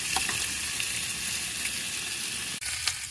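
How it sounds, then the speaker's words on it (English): Eggs frying in bacon grease inside a minivan camper on a windy day, a steady close sizzle and crackle running throughout with a brief dip near the end. "I will be using some of the bacon grease to make my eggs as well"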